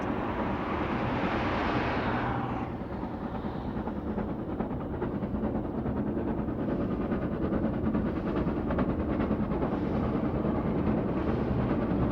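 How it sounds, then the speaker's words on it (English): A steam-era railway line through rural villages on the way to the Gobi Desert in China carries passing trains whose dense, continuous rumble holds steady and loud throughout, with a brighter hiss fading out early. "The constant rumble of passing trains"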